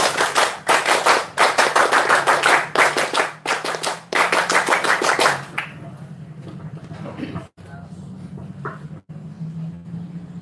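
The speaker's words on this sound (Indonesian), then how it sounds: "Dua kali tepuk pramuka." Scout group at an Indonesian Pramuka rapid-response team opening ceremony doing the rhythmic scout clap twice, sharp loud claps in a patterned sequence that then give way to quieter murmuring and a few stray claps.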